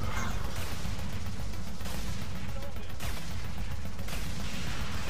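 Dense, continuous video game gunfire and explosions from Sanctum 2 fill the mix loudly, with rapid overlapping shots and booms and no pause throughout.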